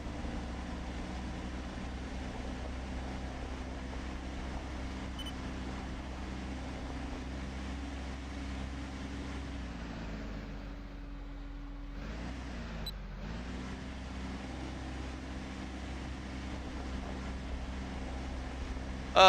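A Kenworth truck drives in Farming Simulator 15, its engine a steady low drone that runs throughout, dips briefly near the end and then resumes at an even level, with no talk over it.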